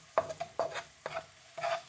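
Garlic and black beans stirred in a hot pan while cooking gently, four short scraping, sizzling bursts in quick succession, close and fairly loud, with no talking.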